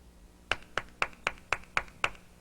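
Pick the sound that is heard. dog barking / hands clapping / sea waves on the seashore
hands clapping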